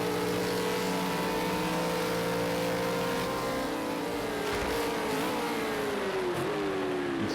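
A V8 Supercar in a racing game at Ruapuna Park, its engine a steady, high-pitched drone down the front straight that sags slightly in pitch near the end, loud and continuous with no talk.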